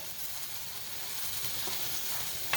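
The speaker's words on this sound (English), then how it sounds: "these have been cooking for about 15 minutes, and you can see how all that liquid evaporated out of this skillet" Apples cooking down in a skillet give a soft, steady sizzle and frying hiss that runs evenly throughout, fairly quiet and close, with no voices.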